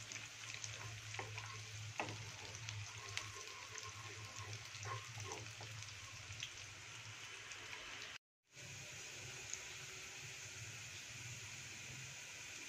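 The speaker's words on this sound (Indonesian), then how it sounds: "Kita masukin bawangnya, bawang merah. Kita tumis sampai" Shallots sauté in hot oil in a pan, giving a steady, moderately close sizzle with faint crackles and a brief dropout near the end before the frying resumes.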